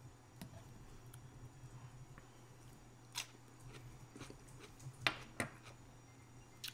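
Crunchy garlic dill pickles bitten up close, giving a few sharp, crisp crunches spaced apart over a quiet, faintly humming room.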